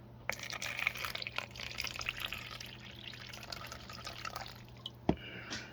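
A thin stream of water trickles and patters steadily into a tarantula's enclosure for several seconds, with a single louder drip near the end, close and fairly quiet.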